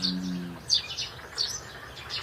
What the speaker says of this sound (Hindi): झींगुरों की आवाज और पक्षियों का संगीत इसमें मिलकर जंगल की आत्मा को जीवित रखता